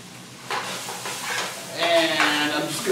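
Hot bacon dressing with chopped bacon cooking down in a pan, giving a steady close sizzle with stirring scrapes and a brief hissing burst partway through.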